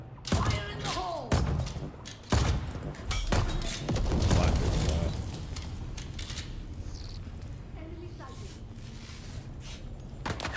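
Grenade blasts and heavy thumps in the video game Dune: Awakening, several loud booming hits in the first half that fade into rumbling gunfire and clatter, with voices talking underneath.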